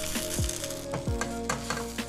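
A stuffed buckwheat crêpe (memil-jeonbyeong) fries in oil in a pan, a loud close crackling sizzle with brief stirring or scraping touches over about two seconds.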